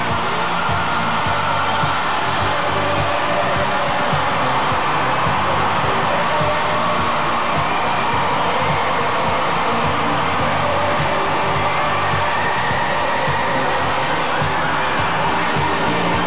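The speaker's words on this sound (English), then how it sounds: "now the Pope has come into view. And the crowd goes wild" A huge outdoor crowd at World Youth Day 1993 cheers continuously as the Pope comes into view, a steady distant roar of shouts and whoops with no single voice standing out.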